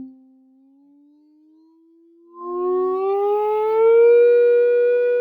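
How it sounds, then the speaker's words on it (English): A steady pure test tone from an online tone generator holds a low pitch, then jumps louder and climbs gradually with added overtones, playing alone. "Going back to that online tone generator, which is annoying, but there it is, right?"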